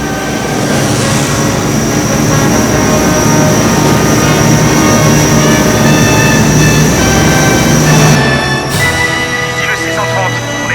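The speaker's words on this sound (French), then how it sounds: "Ici le C-130, on est en vol et on se dirige vers l'objectif." A C-130 transport aircraft in flight gives a loud, continuous, dense engine drone, steady throughout and changing character near the end.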